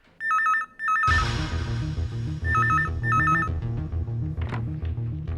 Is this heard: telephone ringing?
yes